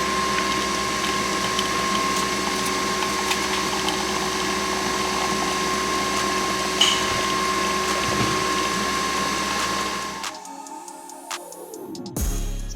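An espresso maker bought secondhand runs its pump with a steady, loud mechanical hum and buzz for about ten seconds, then cuts off into quieter clicks and a falling whir.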